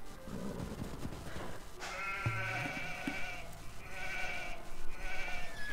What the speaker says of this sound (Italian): perché stai portando le pecore avanti?